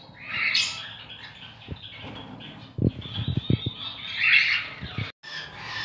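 Lovebirds and java sparrows in a home breeding aviary, a lively mix of close squawks and shrill chirps with scattered sharp calls over a constant twittering background.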